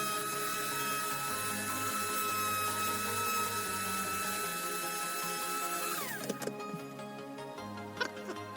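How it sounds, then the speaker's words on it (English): A small power drill whines steadily while cutting channels into a Voyager starship model kit, then winds down abruptly and is followed by scattered clicks and handling noises. "I need to drill down the channels"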